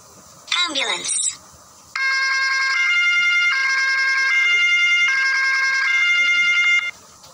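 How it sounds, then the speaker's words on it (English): A short spoken word, then an electronic siren wails in a steady repeating two-tone pattern, loud and close, for about five seconds. "Ambulance. Ambulance."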